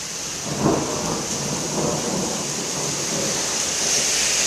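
Thunderstorm with steady rain hissing across the whole stretch and a low rumble of thunder swelling early, then rolling on faintly beneath the downpour.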